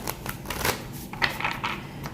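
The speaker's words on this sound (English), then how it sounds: "So let's shuffle up this deck" An oracle card deck is shuffled in quick bursts of papery riffling and soft slaps, several separate flurries close to the microphone and fairly quiet, with no talking.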